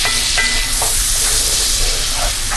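Chopped Vidalia onions fry in very hot bacon fat, a steady, loud, dense sizzle running the whole time with faint stirring scrapes now and then.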